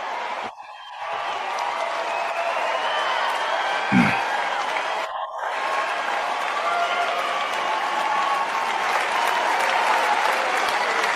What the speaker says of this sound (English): Listen to how long the applause is.